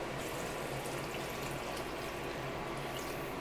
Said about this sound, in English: I'm going to fill it up to 6 quarts of water.